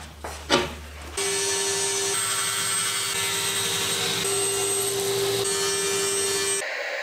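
An MDF board is sawn to size by a power tool, a loud steady whine with a constant tone running for several seconds after a short knock and start-up, then stopping abruptly.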